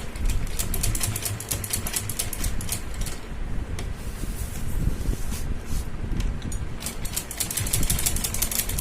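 A sewing machine stitches butterfly trim onto a kurti, running in a steady rapid mechanical chatter with brief pauses and speed changes, close and continuous.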